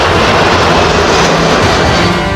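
Indian Air Force fighter jets roar loud and close overhead near the Line of Actual Control in Ladakh, a dense, continuous engine rumble with no break for the full length.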